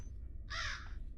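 A crow caws once, clear and harsh, in the Granny horror video game, heard alone over a low steady background hum.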